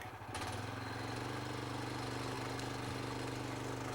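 A log winch mounted behind a tractor pulls in a log, its engine throbbing in a steady, close, rapid drone that runs unbroken from start to finish, with no voices.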